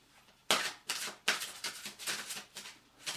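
A deck of angel cards being shuffled by hand, a series of close, crisp riffling bursts, each a quick papery flutter, repeating in an uneven rhythm with short pauses between.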